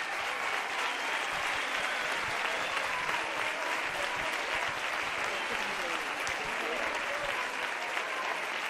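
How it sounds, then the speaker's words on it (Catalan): An audience at a Valencian falles event bursts into strong, continuous applause lasting the full stretch, dense and even with a faint murmur mixed in. "Vos demane un fort aplaudiment per a la seva empresa."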